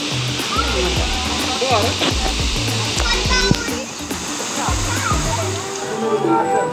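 A waterfall at Pedra Caída in Chapada das Mesas, Maranhão, roars steadily and loudly with splashing water, while a child and other people talk over it nearby.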